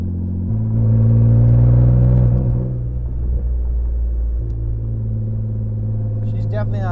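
A fire-damaged C5 Audi Allroad engine idles with a steady low rumble and a brief rise in revs, close and loud, with a voice speaking over it.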